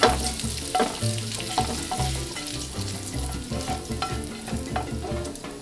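Bacon grease and garlic sizzle in a hot pan while cooking chicken carbonara, a busy close frying crackle under a steady pulsing musical bed with no talking.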